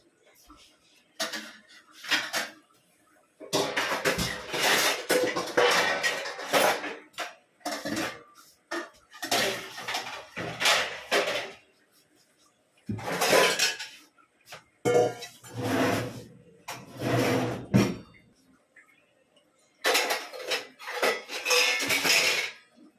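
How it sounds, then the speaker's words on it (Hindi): Cutlery and dishes clink and clatter in bursts while tea and coffee are made on a stove, with short separated clusters of sharp metallic and ceramic knocks and quiet gaps between them. "ये रही आपका कप और ये रहा छाननी"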